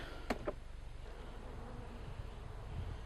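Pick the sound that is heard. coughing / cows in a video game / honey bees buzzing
honey bees buzzing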